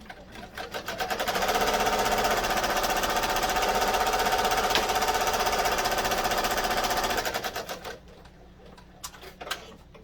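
An embroidery machine stitches a zip bag held in the hoop, its fast steady needle chatter rising up loud, running for about seven seconds, then stopping to leave a few faint clicks.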